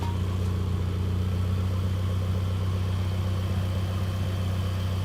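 A Nissan 240SX with a swapped-in dual-cam KA engine idles loud and close, a steady low rumble that holds even throughout with no revving.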